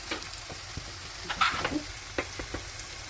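Ground spices with salt and cumin powder sautéing in a pan for a rui fish and radish curry. A quiet, soft sizzle is broken by a few brief scraping stirs, with no talk.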